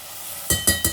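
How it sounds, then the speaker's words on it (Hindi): Onions with a little salt frying in a pan, a steady soft sizzle with three short stirring scrapes close together near the end. "लाइट गोल्डन भी नहीं, उससे थोड़ा कम फ्राई करेंगे हम इन्हें।"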